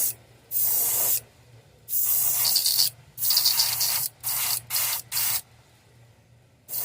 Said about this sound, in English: the airbrush isn't wanting to cooperate